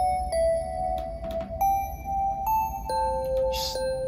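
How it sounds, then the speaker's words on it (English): Bright bell tones play a melody in forest-themed video game music, a sequence of clear sustained chimes that change pitch every half second or so over a soft low backing. "I've got these bells here"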